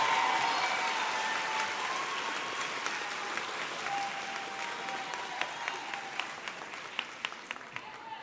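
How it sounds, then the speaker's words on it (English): Steady applause from a large crowd at a graduation ceremony, dense clapping that fills the room and gradually thins toward the end with a few sharper individual claps. "Let's give the Maker faculty and staff some applause, please."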